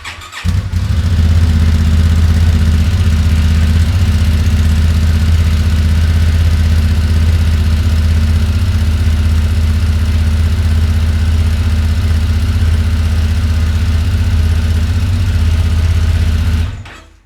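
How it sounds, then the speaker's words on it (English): A cold Honda Transalp 750 motorcycle idling on its stock exhaust with the spark arrestor in, a steady loud low rumble recorded about five feet from the pipe, running evenly for the whole stretch. "so that is the existing exhaust"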